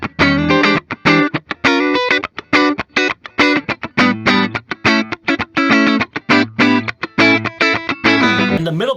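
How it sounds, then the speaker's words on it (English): A 2018 Ebony Gibson Les Paul BFG plays a clean tone through its neck P90 pickup, a loud, steady run of short, rhythmic chord stabs and picked notes with brief gaps between them. "really digging this neck position."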